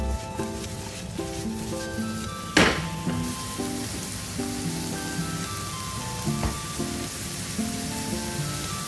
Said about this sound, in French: Je fais revenir les oignons et les poivrons avec un peu d'origan et d'herbe de Provence.